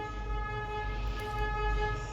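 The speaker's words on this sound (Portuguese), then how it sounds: "Desculpem o buzinaço, é o estacionamento do shopping que de vez em quando tem esses barulhos." Car horns sound in a shopping mall parking lot, long steady horn blasts droning together at moderate distance under a low rumbling background, with no talking.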